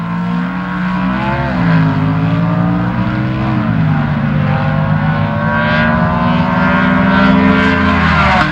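A six-cylinder dragster and a V8 dragster race side by side at a 1974 NHRA drag strip, a loud droning engine roar with rising and falling pitch sweeps that holds steady throughout.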